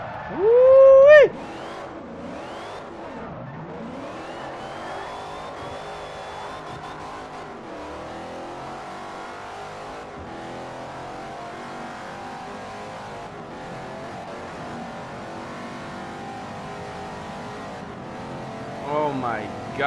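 Hemi Cuda built in Mad Max style in the racing game Forza Horizon 2, its engine giving a sharp loud rev at the start, then a steady lower drone and another brief rise at the end.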